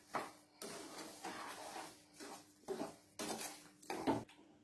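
A spoon scrapes and stirs a sugared bread mixture in a metal pot, repeated rough strokes in an uneven rhythm, fairly quiet and close, with a few clinks against the pot and no talk.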